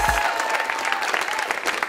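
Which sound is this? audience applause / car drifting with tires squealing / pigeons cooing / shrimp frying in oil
audience applause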